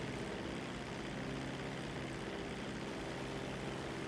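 Propeller plane engine droning steadily in flight in GTA 5, a constant even hum and whir with no talk over it.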